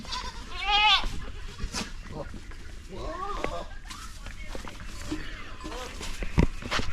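Goats bleating at a spring in rural Madhya Pradesh, several wavering calls scattered among shuffling hooves and background chatter from people nearby, fairly close.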